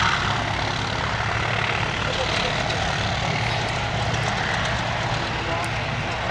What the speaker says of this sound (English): As our Anson going off first, followed by the 2 Gladiators.